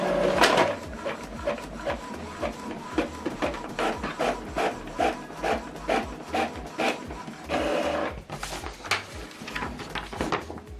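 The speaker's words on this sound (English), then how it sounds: "select print test page" An Epson EcoTank ET-2860 inkjet printer prints a test page, giving a steady run of mechanical rubbing and rasping with rhythmic repeated strokes as the print head shuttles, close and continuous for about eleven seconds with a brief pause near the eight-second mark.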